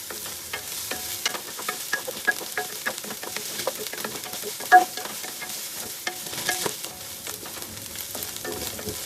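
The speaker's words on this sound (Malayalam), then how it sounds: "അതല്ല വെച്ചാൽ ഈ സ്റ്റേജിൽ ഒന്ന് ഇട്ടിട്ട് നന്നായിട്ട് വഴട്ടാം" Crushed paste sautéed in a pan for a chicken rice lunch dish, a steady sizzle and frying hiss with frequent stirring scrapes and taps, close and continuous.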